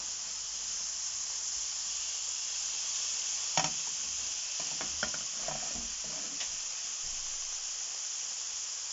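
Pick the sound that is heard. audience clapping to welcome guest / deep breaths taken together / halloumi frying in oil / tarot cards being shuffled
halloumi frying in oil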